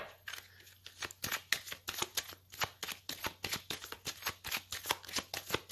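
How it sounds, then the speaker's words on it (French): A tarot deck used for readings is shuffled by hand, giving a rapid run of crisp card riffles and snaps in a steady rhythm, close and fairly quiet, with no talking over it. "je vais faire une coupe avec le tarot que j'utilise lors des consultations"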